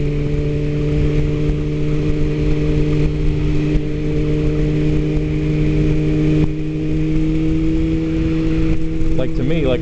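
A motorcycle cruising at 55 mph in fourth gear around 5,000 RPM, its engine holding a steady, loud drone with strong even harmonics throughout, wind noise rushing over it continuously.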